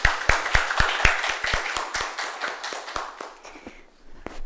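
Sparse applause welcoming the keynote speaker at a regenerative medicine policy forum, a few distinct hand claps in an uneven rhythm that thin out and fade, close and fairly clear.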